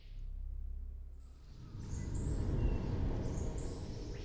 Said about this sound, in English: Hear the birds and the insects?